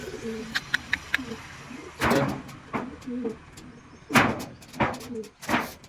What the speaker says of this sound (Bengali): এই যে দেখুন যে পায়রাগুলো আমি উড়াবো এখন